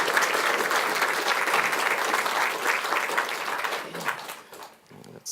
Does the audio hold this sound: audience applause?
yes